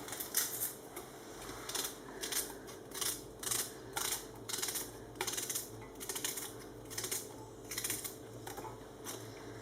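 A knife chops small onions on a cutting board in rapid, regular bursts of crisp taps, close and fairly quiet, with short pauses between runs.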